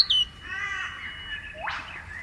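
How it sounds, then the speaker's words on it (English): A wild crow gives a single harsh, rasping caw near the end, rising loud above a faint background of other birdsong. "Oh, that was a crow"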